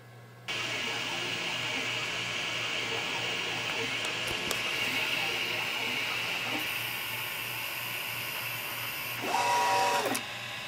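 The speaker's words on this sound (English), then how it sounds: "I'm going to 3D print a mount so I can attach the camera above the lens" A 3D printer printing a camera mount for a microscope: a steady whirring, hissing motor drone that runs continuously, with a brief louder burst of stepper movement near the end.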